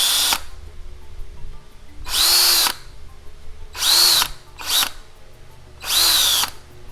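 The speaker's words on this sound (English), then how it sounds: "This is called drill reaming." A power drill reams out holes in a plenum uplift tube in five loud bursts, each lasting about half a second to a second, separated by quieter gaps with a low hum.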